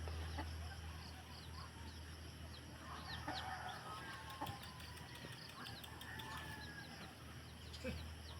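A chicken clucks faintly in scattered short calls over a steady low hum, with no one talking.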